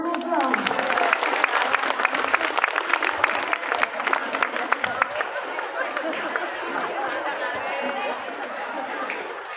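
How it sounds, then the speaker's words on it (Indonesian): Audience clapping and chattering inside a mosque during a Maulid commemoration, a dense burst of applause mixed with crowd voices that tapers into lighter murmuring and scattered claps. "Tepuk tangan dulu dong."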